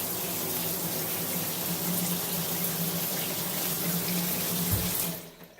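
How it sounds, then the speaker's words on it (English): Water pours steadily from a Delta shower head, a constant broadband hiss with a low hum underneath, close and unbroken, before it cuts off abruptly near the end. "So this is just a shower."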